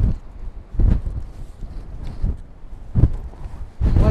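Gusty wind on the Scottish coast, buffeting the microphone in repeated low rumbling bursts roughly every second or so, loud and close with no voices.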